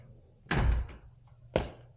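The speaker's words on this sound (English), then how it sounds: "you gotta leave, you gotta close this door." A door on a 2021 Subaru WRX shuts twice in a garage or driveway while an intake and J-pipe are being installed. The first close is a loud, heavy slam. About a second later comes a second, shorter thunk.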